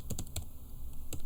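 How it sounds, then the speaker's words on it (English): Quick keystrokes on a computer keyboard while entering a SQL query, a short burst of close, crisp clicks followed by a pause and one more tap. "Make sure I'm typing everything correct."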